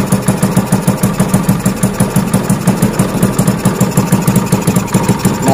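Honda Jupiter Z motorcycle engine idling with a newly installed manual clutch, a steady, fairly loud rhythmic putter with an even pulse and no talking.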